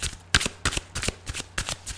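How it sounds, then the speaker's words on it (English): Psychic Tarot Oracle cards are shuffled by hand at close range, a series of quick papery riffles and slaps in an uneven rhythm, with no voice over them. "Please fast forward if you don't like the shuffling."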